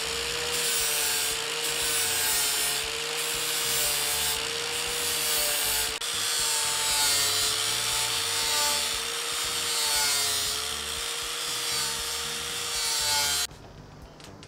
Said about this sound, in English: Now we just need to like sand out the edges with like the flap disc.